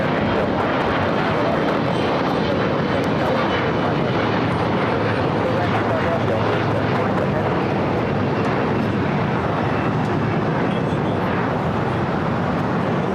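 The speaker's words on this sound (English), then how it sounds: "It's lining up. Runway 25 left." A plane roars loudly on its approach to land on runway 25 left at LAX. The broad engine rumble and whine hold steady and close throughout, with some faint talk mixed in.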